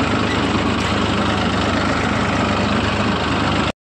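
A tractor engine idles steadily and loudly close by, a continuous low rumble with no speech, cutting off abruptly at the very end.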